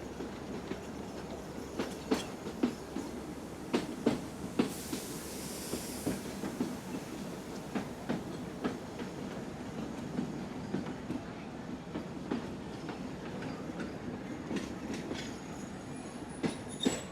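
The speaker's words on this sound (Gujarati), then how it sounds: "ખેતરોની વચ્ચેથી આપણી ટ્રેન પસાર થઈ રહી છે" A 110-year-old train runs from Bilimora to Waghai through farm fields with a steady rumble and a regular clickety-clack of wheels over rail joints. Faint wheel squeal rises now and then, heard from inside the carriage.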